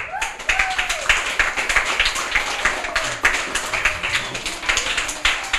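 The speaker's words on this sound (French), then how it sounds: "on s'applaudit encore une dernière fois, les enfants" Children clap together at the end of a kids' book show, a lively, uneven patter of light hand claps with a few voices mixed in.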